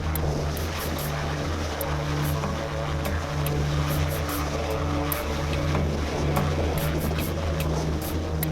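A US Coast Guard helicopter hovers during an ice rescue hoist, a loud continuous rotor and engine roar holding steady and close throughout.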